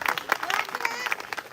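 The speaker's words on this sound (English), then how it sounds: "Clap it up." A commencement crowd claps in a loose, uneven patter of sharp hand claps mixed with cheering, fairly close, with voices shouting over it throughout.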